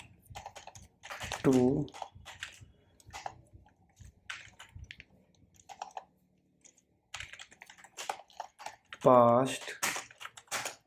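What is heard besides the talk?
typing on a computer keyboard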